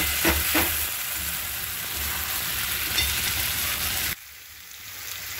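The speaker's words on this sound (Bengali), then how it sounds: "ভেজে রাখা আলুগুলো এবার ভালো করে মশলার সাথে নাড়ি চাড়িয়ে নিতে হবে।" Fried potatoes being stirred with spices in a pan for chicken curry, giving a continuous close sizzle with scraping stirs, which cuts off abruptly near the end.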